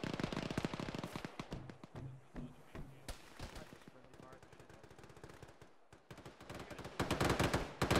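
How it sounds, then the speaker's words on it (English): Friendly troops in the Arma video game lay down sustained automatic gunfire, rapid overlapping bursts and single shots rattling throughout, heaviest at the start and the end. "We've got friendlies putting a lot of fire downrange to where we're moving"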